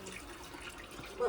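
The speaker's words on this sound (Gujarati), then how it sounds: "માટલામાં પાણી ભરે" Water runs steadily into a clay pot in a village home, a continuous close rushing flow heard alone for just over a second.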